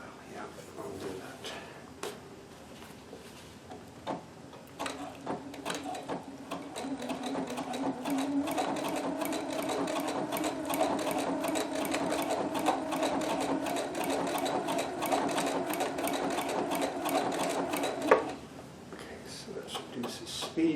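A Husqvarna Viking sewing machine runs decorative stitches on a shirt, a steady mechanical whir with rapid needle clatter that starts softly, holds a continuous run and then stops, with some speech around it.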